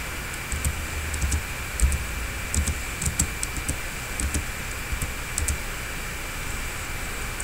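Someone types on a computer keyboard in quick bursts of soft, close key clicks over a steady background hiss.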